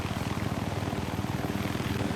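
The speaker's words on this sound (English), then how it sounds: "Oh, this helicopter actually uses like real life physics." Helicopter in the Minecraft Superb Warfare mod: a steady rhythmic rotor thrum with a continuous engine drone, close and constant throughout.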